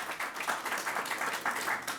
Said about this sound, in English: Let's give Mayor Byron Brown a big round of applause.